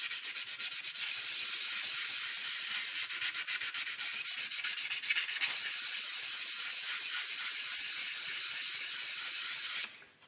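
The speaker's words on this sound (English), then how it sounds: "is we sand this" A wok turned from honey locust wood is sanded, giving a loud, continuous close scratchy rubbing with rapid rhythmic strokes that stops abruptly near the end.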